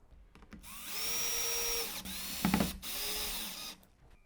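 A power drill driving screws into countersunk wood, two close whirring bursts that rise in pitch then hold steady, separated by a brief pause with a clattering bite as the screw seats.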